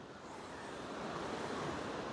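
Waterfall water tumbling down in stages, a dense, steady roar heard close up and alone without voices.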